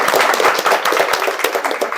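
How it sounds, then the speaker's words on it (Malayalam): An audience claps for the owner's parents at a clothing showroom inauguration, dense continuous applause from many hands that is close and lively, with faint voices mixed in. "അതുകൊണ്ട് നമുക്ക് വലിയൊരു കയ്യടി കൊടുക്കേണ്ടത് ഇവർക്കാണ്."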